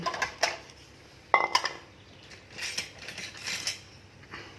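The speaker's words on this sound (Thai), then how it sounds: "เดี๋ยวมาตักตักใส่จานนั่งตักใส่จานตักใส่จานตักใส่จาน" Utensils clink and scrape against dishes as food is spooned onto a plate, a few irregular taps with one sharper knock, fairly quiet and without talk.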